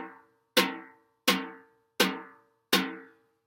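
Brushes play four evenly spaced staccato strokes on an acoustic drum, each a sharp attack that rings out and decays before the next, heard alone and fairly faint.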